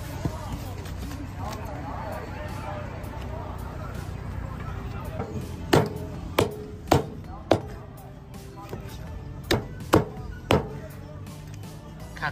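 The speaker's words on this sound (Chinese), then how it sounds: "看看你剁鸡怎么剁啊？" A cleaver chopping a small black-claw chicken outdoors: sharp, loud whacks in an irregular series, some in quick pairs, over steady background noise and conversation.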